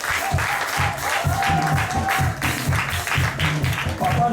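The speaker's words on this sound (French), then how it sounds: "faites un grand cri d'acclamation pour cette paroisse" A church congregation at a Sunday harvest service claps and shouts in acclamation. Full, loud applause rides over a rhythmic low beat, with cheering voices rising above the clapping.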